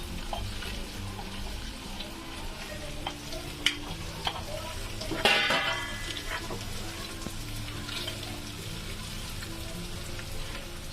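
Garlic fries in a pan over lowered heat, a soft steady sizzle with occasional stirring clicks and a brief louder crackle midway, no voices.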